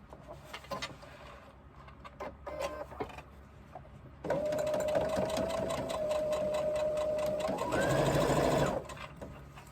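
A sewing machine bastes the edges of a crossbody bag from the right side, first in short scattered bursts, then in one long, loud, continuous run of stitching that ends with a brief rougher surge.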